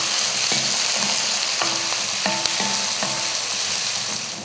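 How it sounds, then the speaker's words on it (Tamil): Onion, curry leaves and green chili with garlic and chana dal sauteing in a pan for rava kichadi, a steady close sizzle with periodic scraping stirs and clinks of a spatula against the pan, no voices. "கருவேப்பிலை, பச்சை மிளகாய், ஒரே ஒரு பெரிய வெங்காயம். இப்போ இதை வதக்கிடலாம்."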